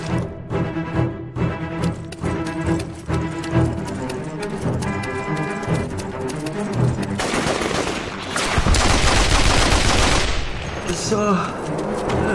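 AK-47 assault rifle fire in Mercenaries 2: World in Flames: rhythmic bursts of shots at first, then a loud, dense barrage toward the end, mixed with game voices and effects.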